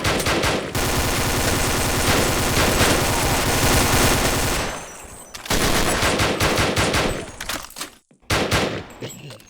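Rapid automatic gunfire from the Sven Coop video game, dense and loud, running in sustained bursts with short breaks and a sharp final volley.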